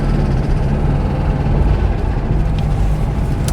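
A 1966 Porsche 912 engine runs steadily and loud up close, a dense low rumble with a broadband roar that holds throughout, no voices over it.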